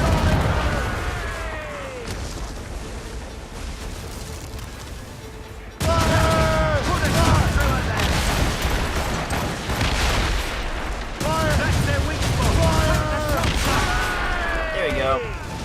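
Ship cannon volleys in the naval battle of Assassin's Creed Rogue: loud broadside blasts erupt in two waves over rolling battle noise, with voices shouting throughout.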